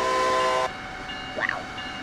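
A Train Sim World locomotive holds a steady tonal horn blast that cuts off abruptly, followed by quieter rolling rail noise and a brief squeal, with no voices.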